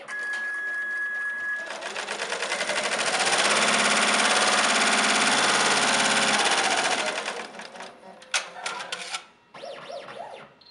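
HappyJapan embroidery machine sewing a placement stitch, a rapid mechanical needle chatter that ramps up, runs steadily for several seconds, then slows and stops, followed by a few clicks and handling sounds.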